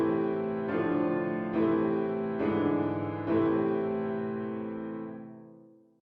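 A short piece of music in a minor key: four sustained chords, each struck and ringing into the next, the last fading out slowly, clean and alone with no voice.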